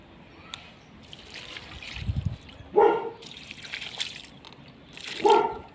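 Water trickling and splashing onto potted plants in a home garden, arriving in several distinct pours with a soft background hiss between them.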